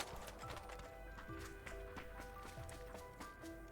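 Rapid footsteps of a character running in the video game PUBG, a steady close patter of steps over quiet game ambience.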